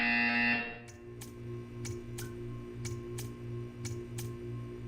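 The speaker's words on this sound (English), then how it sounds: "When you hear the buzzer, stare at the art." A buzzer in the Portal 2 video game, a loud blaring burst that cuts off after half a second, followed by quiet regular ticking over a low electrical hum.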